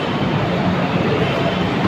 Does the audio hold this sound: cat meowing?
no